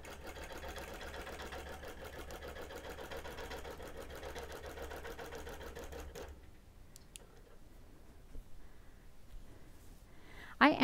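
A longarm quilting machine stitches basting across a quilt with a steady, fast mechanical hum for about six seconds, then stops, leaving quiet handling noises and a brief clatter at the end.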